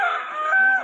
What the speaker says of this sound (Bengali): এই মোরগ